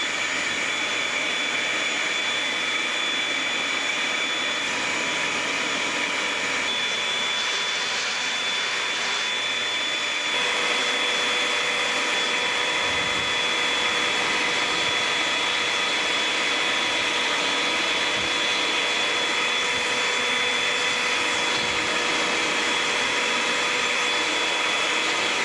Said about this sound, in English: First thing I'm going to do is vacuum off all of those filters.